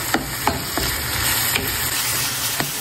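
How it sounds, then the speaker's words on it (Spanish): Four eggs being stirred into nopales frying in a pan, with a loud, constant sizzle and periodic scraping strokes of a utensil, close up, no talking. "le vamos a agregar cuatro huevos y los vamos a batir ahí para que quede bien integrado con el nopal"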